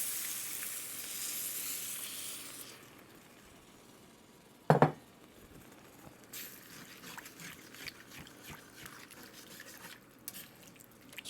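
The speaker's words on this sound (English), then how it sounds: "Stir that around, scrape up all the bits on the bottom." A roux with beef stock is stirred in a pan. A loud sizzling hiss fades, then a sharp metallic clank, followed by soft, scattered scraping and bubbling as the spoon works the bottom.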